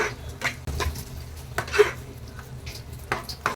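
Scrambled eggs for egg podimas, four eggs stirred in a pan over a medium flame: sharp scraping and tapping of a utensil against the metal pan in irregular strokes, close and clear, with faint sizzling.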